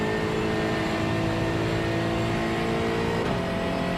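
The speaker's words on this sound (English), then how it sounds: "as we just hear that wonderful grunt of the V8" Steady V8 engine roar from a GT4 race car on the Interlagos circuit in iRacing, a continuous loud drone with a slight pitch shift near the end as the revs change.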